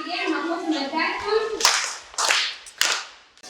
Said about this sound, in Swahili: Vizuri, mgeni makofi matatu.